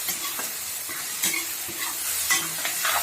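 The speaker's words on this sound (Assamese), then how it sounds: "মছলাখিনি দি এইদৰে লৰাই দিম" Spices (cumin, coriander seeds and jaluk pepper) stirred into a sizzling pan for amothu bhaji, with steady frying hiss and a few scraping spoon strokes, close and alone without talk.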